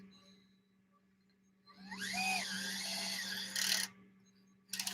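A cordless electric screwdriver with its adjustable clutch turned down to 1 drives a kingpin screw on an Axial RC crawler kit, giving a brief, fairly faint motor whine of about two seconds in a quiet room, followed by a short rattling burst.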